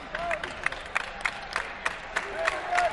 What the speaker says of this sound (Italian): Sale giustamente l'applauso e l'incoraggiamento da parte del pubblico del forum.